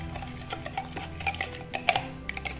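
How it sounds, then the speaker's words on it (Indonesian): Coconut milk mixed with water is stirred in a bowl for crispy kue kuping gajah, giving light scraping and a few small clinks of a utensil against the container, close and quiet. "Lalu santannya kita aduk"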